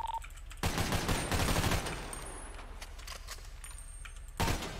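Bursts of rapid gunfire crackle in quick succession in a FiveM game session, followed by quieter scattered clicks and faint background game sounds, then another short burst at the end.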